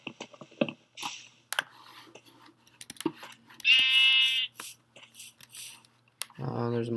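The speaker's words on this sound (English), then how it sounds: "Ooh, there's a sheep, I can make a bed." A blocky sheep in the video game Minecraft lets out one clear, drawn-out bleat, amid scattered game clicks and a voice talking nearby, followed by another low bleat at the end.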